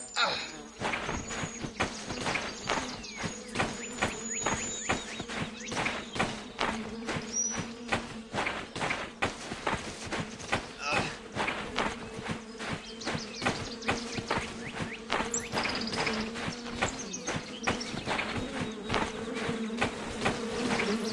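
Swarming bees in the video game The Vale, a constant close buzzing drone with rapid fluttering pulses that continues without a break for the whole stretch.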